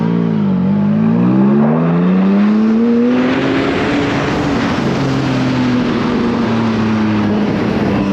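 A loud straight-pipe car exhaust roars steadily, its deep drone climbing as the engine revs, then holding a raspy, throaty tone.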